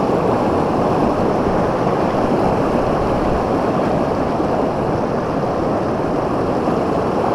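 A fast-flowing, heavy-running river rushes in a loud, steady broadband roar that stays even and unbroken throughout, close by, with no talk.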